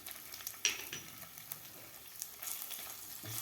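Grated ginger sautéing with cumin in a pan for black chana chaat, a faint, soft sizzle with a few light scrapes and clicks of a spoon, quiet and close.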